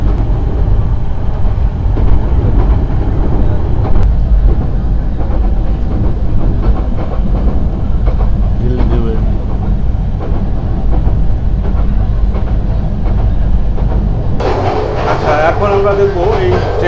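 Suborno Express train running on rails between Chattogram and Dhaka in Bangladesh, a steady loud rumble with clattering and hiss throughout, brighter noise near the end, with a voice talking over it.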